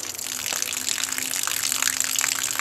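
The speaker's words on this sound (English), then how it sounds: "the water's pouring out a lot slower" Water pours steadily from a bucket into a small homemade hydroelectric generator, making a continuous close splashing gush with no talk.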